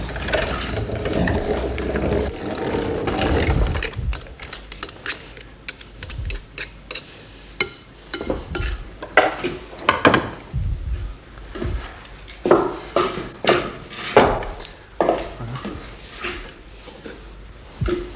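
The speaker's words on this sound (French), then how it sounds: "Tout ça dans la moulinette." A hand-cranked food mill grinding a hash of meat with milk-soaked brioche bread, giving repeated ratcheting, clicking mechanical sounds in uneven bursts, fairly close, with no talk.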